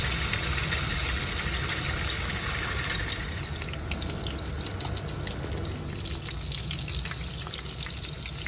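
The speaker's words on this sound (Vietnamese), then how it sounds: "Và mình chiên nó lên cho nó giòn lắm." Halved tofu frying in hot oil for a Vietnamese soy-sauce noodle dish, a steady dense sizzle with crackling pops that holds at an even level throughout, with no voices.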